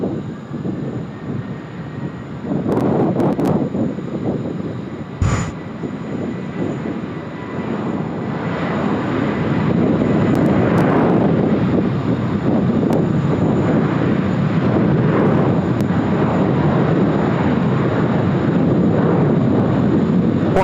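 A Boeing 737 airliner rolls on runway 16 right at Sydney Airport. A low engine roar builds to a loud, sustained rumble with gusts of wind noise, and a sharp click cuts through early on.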